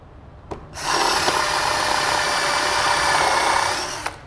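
An INGCO CDLI2002 20V cordless drill bores into a piece of wood, spinning up with a steady, loud whir that holds for about three seconds before winding down, with a click before and after.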